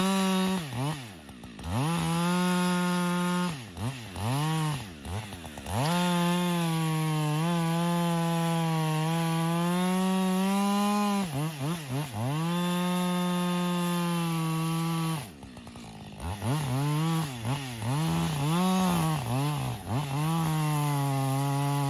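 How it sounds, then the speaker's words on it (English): Chainsaw making a felling cut in a tree, its loud, close engine revving high and steady while cutting, with brief dips and re-revs between pushes into the wood and no talking. "Get your felling cut in."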